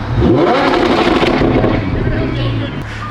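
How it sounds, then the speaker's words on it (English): Straight-piped Lamborghini exhaust crackling and popping in a loud close burst under the engine's roar, with people talking over it before it settles to idle. "Oh, check out the pops now."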